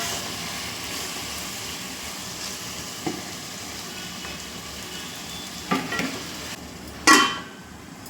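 Marinated chicken sizzling in a hot pan for a chicken fry piece biryani, a steady frying hiss broken by a few utensil clinks near the end, with one sharp, loud scrape or clatter just after seven seconds.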